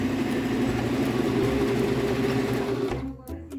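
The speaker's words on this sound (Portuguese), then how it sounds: "eu vou passar uma costura reta em volta dele inteirinho" A Tradition 2250 sewing machine running a straight stitch around elastic, a loud, steady, close whirring hum that stops abruptly near the end.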